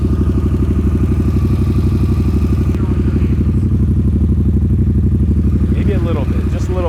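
A Harley-Davidson Sportster S with a Rowdy aftermarket exhaust rumbles in a deep, loud, rapidly pulsing idle that holds steady throughout, close to the listener, with a voice briefly speaking near the end.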